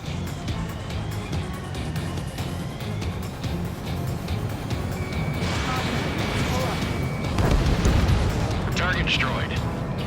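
In the Ace Combat 7 rescue mission, an anti-air gun blows up under a steady jet engine drone, the explosion swelling into a rumbling burst; a radio voice talks over the noise.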